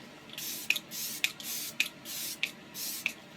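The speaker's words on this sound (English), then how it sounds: "now I'm gonna spray everything with Fix Plus" Setting spray misted onto a face, five short even hisses about half a second apart, each starting with a small click of the pump, close and clear with no talking.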